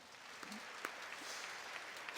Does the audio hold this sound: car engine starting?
no